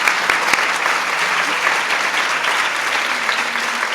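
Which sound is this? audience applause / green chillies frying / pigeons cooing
audience applause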